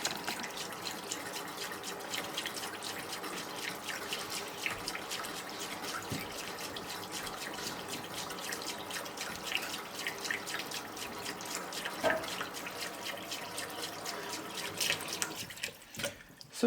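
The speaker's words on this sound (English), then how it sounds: "But for the most part, this is my rice cleaner now." A homemade rice cleaner drum washes rice with running water, giving a steady tap-like splashing and trickling with scattered drips, fairly close and continuous before dropping away near the end; no one talks.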